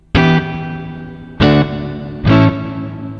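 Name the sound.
guitar through Tech 21 SansAmp FlyRig 5 pedal, reverb fully up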